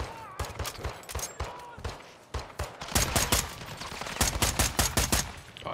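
Repeated gunfire in Modern Warfare 2 aimed at a window, with sharp shots in irregular bursts that build into denser volleys, loud and close, with faint game sounds between them.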